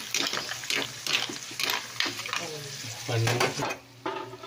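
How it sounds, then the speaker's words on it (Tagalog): Mussels (tahong) sautéing in a home pan, stirred with a utensil that scrapes and clinks against the metal over a steady sizzle, with louder stirring bursts near the end. "Yung ginisa ng asawa kong natahon."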